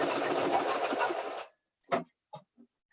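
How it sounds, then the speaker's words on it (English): A sewing machine stitches a ribbon onto a fabric bowl cover, backstitching in a close, loud, even whir for about a second and a half, then stops. A few soft handling clicks follow. "I'm gonna backstitch just to make sure that that ribbon is secure right there."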